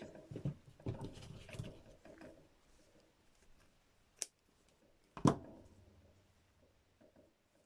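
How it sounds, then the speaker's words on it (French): Scissors cut through crochet yarn on a handmade jacket: two sharp, close snips about a second apart, following soft rustling handling noise, with nothing else in the background. "Donc maintenant, je vais couper mon fil."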